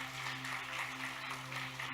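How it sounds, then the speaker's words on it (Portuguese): Congregation applauding during an evening communion service in church, with steady, fairly faint clapping spread evenly across a short stretch, sounding distant and diffuse rather than close. "Uma salva de palmas para Jesus."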